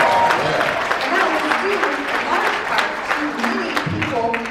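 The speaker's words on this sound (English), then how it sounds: "Wow, big round of applause." Audience applause at a banquet honoring Asian Americans in Georgia, a sustained round of clapping from a roomful of people with voices murmuring and calling out beneath it, fairly loud throughout.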